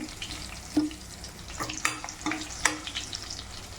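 Tempering frying in hot oil in a home kitchen while cooking a Telaga pindi (sesame cake) curry, crackling and sizzling with several sharp pops and stirring scrapes over a steady hiss, close by with no talk.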